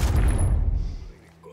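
Gunfire from the video game Ghost Recon: one loud, close boom at the start, then a decaying rumble that fades over about a second.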